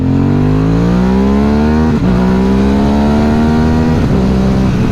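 An Aprilia Dorsoduro 750 motorcycle engine revs steadily upward in pitch to its 10,000 rpm limiter, dropping briefly twice as it holds near the top, continuous and close.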